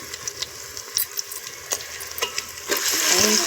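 Ginger garlic paste and turmeric frying for fish curry over a wood fire stove: a steady sizzle punctuated by scraping stirs and clinks, building to a louder, fuller sizzle near the end, close up with no talk.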